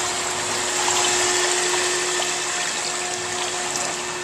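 Pump on a new 5-ton, 230-volt air-cooled chiller rated at 33 GPM, running as a steady mechanical hum with a constant tonal whine and broad hiss, close and unchanging throughout.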